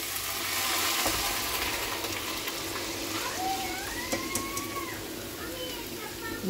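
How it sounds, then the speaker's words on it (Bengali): Dal poured into a sizzling tempering of ginger and cumin paste, a broad steady hiss of frying close by, with faint background sounds and no talking. "এর মধ্যে এবার আমি ডালটা ঢেলে দেবো।"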